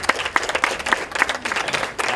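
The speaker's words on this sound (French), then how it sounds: "que je vous demande d'applaudir" Applause from an audience at a community event in Cotonou, a brief burst of individual claps clearly separated in a loose, uneven rhythm, moderately close and with no talk over it.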